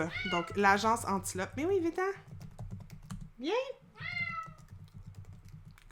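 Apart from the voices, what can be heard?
cat meowing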